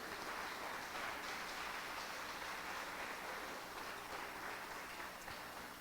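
A church congregation claps together at a Sunday service, a steady dense wash of applause held at even loudness throughout, broad and crowd-sized with no voices rising above it.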